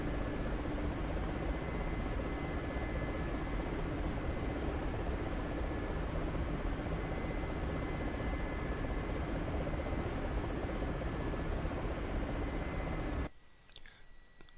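Mi-24 helicopter in the DCS flight simulator: a steady, loud rotor and turbine roar fills the cabin without a break, then cuts off abruptly just before the end.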